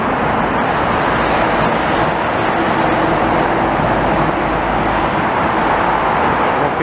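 A Kenworth W900 truck goes by in Montreal traffic, a loud, steady roar of engine and road noise that stays close for the whole stretch.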